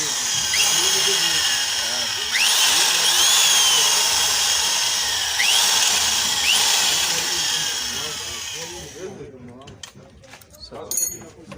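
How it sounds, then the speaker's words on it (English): A power drill with an 8mm bit bores out stripped threads on an exhaust pipe, its steady high whine running close and loud for about nine seconds before stopping, with a few brief knocks after. "at first I'm going to remove these stamped threads by using 8mm drilling bit"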